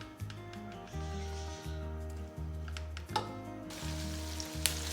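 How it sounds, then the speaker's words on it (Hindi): Onions sizzle in a spoonful of hot ghee, a steady crackling hiss with occasional stirring scrapes, heard close up over a repeating low background hum. "ये 1 बड़ा चम्मच हमने घी का भर के डाल दिया है। अब हम इसमें प्याज शामिल करेंगे।"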